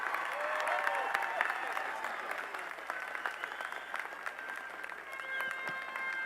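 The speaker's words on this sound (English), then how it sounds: "Another round of applause for Mayor Richardson." A commencement crowd at a university ceremony claps steadily and fairly loudly throughout, with voices mixed into the applause.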